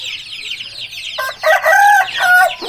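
A Thai cross Aseel rooster crows loudly and close by in one drawn-out call, following a stretch of quieter background bird chatter.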